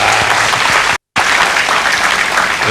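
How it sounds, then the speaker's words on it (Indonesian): An audience at a Gemari Semanggi event marking the International Day of Persons with Disabilities bursts into loud, dense applause that fills the clip, broken by a very short gap of silence. "Kita beri tepuk tangan untuk Pak Gufron."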